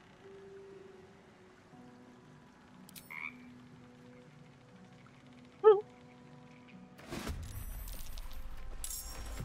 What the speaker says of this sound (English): It shies away, croaking a warning,